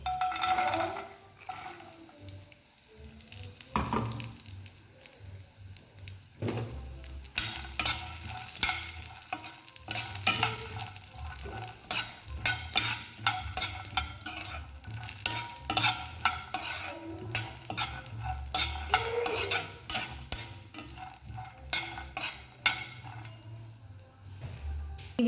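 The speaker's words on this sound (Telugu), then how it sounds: "ఈ ప్యాన్లోకి కొంచెం నెయ్యి అయితే వేసుకొని మనం వాల్నట్స్ కూడా ఫ్రై చేసుకుందాం." Walnuts fry in ghee in a pan, giving a steady sizzle that runs throughout, with frequent stirring scrapes and clinks of a utensil against the pan close up and no talking.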